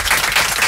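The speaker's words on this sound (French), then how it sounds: "Vous pouvez l'applaudir, monsieur, quand même." A television studio audience bursts into loud, close applause for a cartoon voice actor, thick continuous clapping filling the whole short burst.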